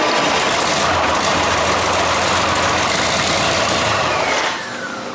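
A 6.4 HEMI V8 runs after a catastrophic failure and teardown, a loud steady idle that holds evenly before dropping slightly in level near the end.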